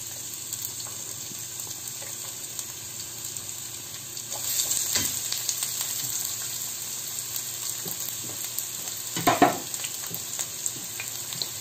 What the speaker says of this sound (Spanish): La voy a pochar un poquitín.